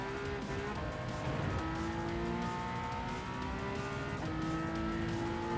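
A Porsche 911 GT1 race car in Gran Turismo 7 holds a steady, loud engine drone with gliding pitch as it shifts through gears, its note dipping and climbing twice, with faint tire noise beneath and no talking.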